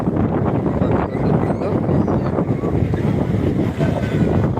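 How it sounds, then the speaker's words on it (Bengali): Strong wind at Digha beach buffets the microphone with loud, continuous roaring gusts, with surf faintly mixed in and no voices. "বাতাস যেভাবে হচ্ছে কথা ঠিক শোনা যাবে না"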